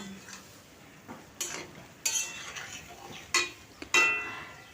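Ridge gourd and potatoes being stirred with spices in a pan, heard as a few separate scraping and clinking strokes of a utensil against the pan, spaced out over quiet gaps with no talk.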